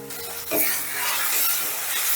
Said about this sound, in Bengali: এবারে এই মশলাটাকেও বেশ কিছুক্ষণ কষে নেব